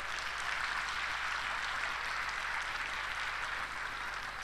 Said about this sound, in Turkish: Onlar için güçlü bir alkış istiyorum.